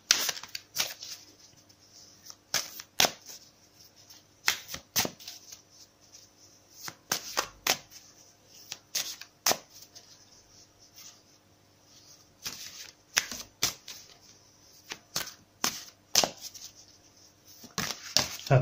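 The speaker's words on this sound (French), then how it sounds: "Donc je vais battre les cartes." Tarot cards being shuffled by hand, a series of soft papery riffles and flicks in irregular bursts, close and fairly quiet with no talk.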